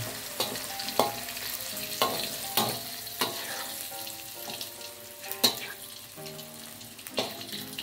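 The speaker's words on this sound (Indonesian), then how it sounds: "Kita goreng sampai matang ya Bunda." Chilies and shallots sizzle as they fry in a pan for Indonesian sambal kelet, a steady crackling bed broken by sharp clatters of stirring utensils against the pan, close and fairly loud with no talking.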